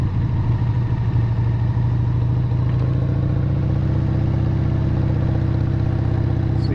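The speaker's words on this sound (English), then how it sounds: "when I pull up in front of the garage, it should give me maybe 10 seconds to 20 seconds of idling before it shuts down" A 1997 Harley-Davidson XLHS Sportster engine idles in front of a garage with a steady, loping low rumble and mechanical clatter, close and continuous throughout.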